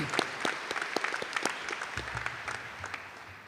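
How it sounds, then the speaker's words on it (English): Audience applause at a high school commencement ceremony, a sustained patter of many hands clapping across a large crowd at moderate distance, with scattered sharper claps standing out. "I would ask that we all give them a round of applause"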